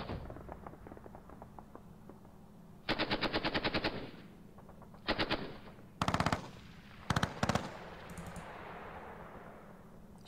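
Gunfire from the North Africa wargame Panzer Battles, heard as several sharp bursts of rapid machine-gun shots in quick rhythmic strings with pauses between them, over a low background hum.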